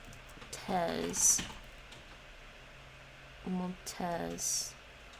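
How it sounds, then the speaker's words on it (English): Keys on a computer keyboard clatter in short bursts as someone types Arabic, with brief pauses between bursts and a few quiet vocal sounds. "I'm getting the hang of the keyboard, the Arabic typing"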